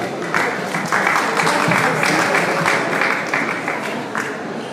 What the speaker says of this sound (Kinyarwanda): Dusubire kandi dukomere amashyi menshi umuvyeyi,